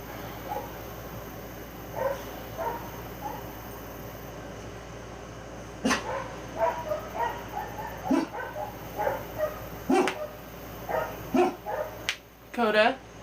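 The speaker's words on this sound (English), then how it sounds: "The dog's outside I can't do anything about" A dog named Coda barks outdoors in a string of short, repeated barks that grow denser toward the end, heard faintly at a distance while a person talks indoors.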